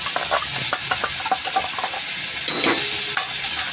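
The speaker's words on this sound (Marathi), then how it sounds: "टाकून व्यवस्थित भाजून घ्या तो मसाला." Ginger garlic masala paste roasting in oil in a pan, a constant sizzle with repeated scraping and stirring strokes of a spoon close by.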